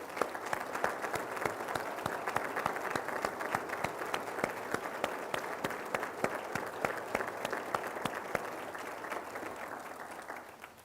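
An audience at a Douglas County State of the County address applauds military veterans, dense steady clapping from many hands sustained for about ten seconds before tapering off at the end.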